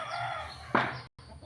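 Chicken sounds in a poultry-raising setting, a short clucking burst from a nearby hen or rooster over steady background noise, followed by a brief dropout.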